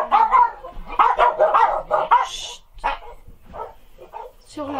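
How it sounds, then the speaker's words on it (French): Dogs bark in a run of several close, loud yaps and woofs, with a couple of shorter, fainter barks following after a brief pause. "Les chiens aboyaient"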